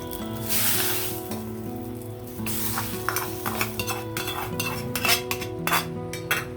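Chana dal (split Bengal gram) is tipped into a sizzling oil tempering and stirred for a senagapappu curry, giving a loud hiss of frying under repeated scraping and clinking of a spoon against the pan, close up, with no talking.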